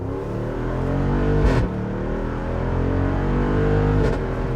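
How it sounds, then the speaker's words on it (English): A Jeep Wrangler 392's deep V8 engine rumbles steadily up close, with two brief sharp revs breaking through the low idle drone. "That is one of the best parts of the Wrangler 392, without a doubt, the sound and performance."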